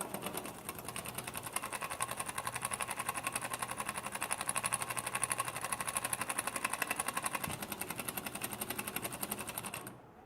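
A small DIY oscillating steam engine, a wobbler type, runs in reverse with a rapid, even chuffing and clattering pulse, close and fairly quiet, steady for about ten seconds before stopping.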